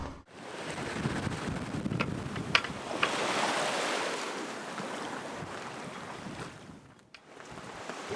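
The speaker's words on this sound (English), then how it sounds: "We got some pretty good sized waves out here" Ocean waves wash and slosh around a sailboat rolling in the Little Bahama Bank, a broad, surging rush with strong wind buffeting the microphone, swelling and easing over several seconds.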